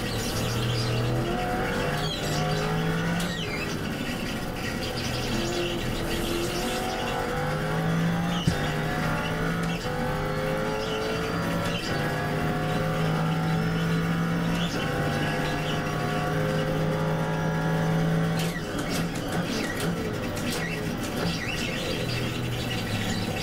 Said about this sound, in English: Down into 1st for the hairpin. And up through the gears as we follow this somewhat twisty but still very high speed section.